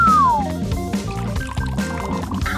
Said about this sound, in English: I'll set it in a huge bowl and pour hot water around it.